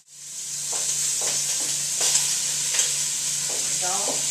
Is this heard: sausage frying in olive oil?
yes